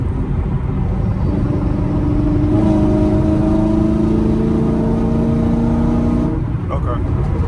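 A Camaro SS with a new tune revving in rising and falling pulls, heard loud and rumbling from inside the car, with a low constant drone under it.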